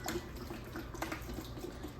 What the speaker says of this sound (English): I'm going to go ahead and just add my water.